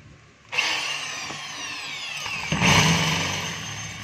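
A hammer drill set to plain drill mode starts abruptly and keeps whirring at a steady pitch, loud and close, with a small shift in tone partway through, and no hammering impacts.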